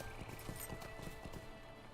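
Horse hooves clip-clop in a quick, steady galloping rhythm from the video game Lord of the Rings Online, layered over game ambience and a brief whinny, close and even in level throughout.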